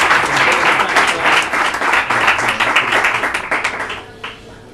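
Applause from an audience welcoming the speakers to an evening talk, a dense, loud wash of many hands clapping that holds steady, then thins and tapers off near the end.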